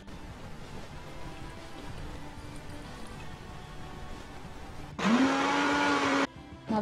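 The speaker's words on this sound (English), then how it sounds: "Now let's put them all together in a mixer jar and blend them all." A mixer jar blends vegetable soup ingredients in one loud, steady whir of about a second that starts abruptly after several seconds of quiet background hiss, cuts off, then restarts briefly.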